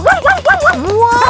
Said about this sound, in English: Leave us alone, dog!